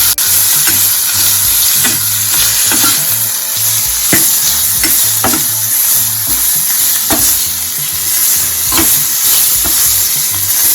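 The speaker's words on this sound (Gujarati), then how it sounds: "હાફ ટીસ્પૂન હિંગ એડ કરીશું કોબી એડ કરીશું મિક્સ કરી લઈશું" Shredded cabbage stir-fried with half a teaspoon of asafoetida, sizzling steadily in hot oil while a utensil scrapes and tosses it in repeated strokes, close and loud, with soft tonal hum beneath and no talking.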